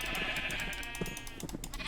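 Sheep in a video game bleating in quick repeated calls, fairly faint, with no voices over them.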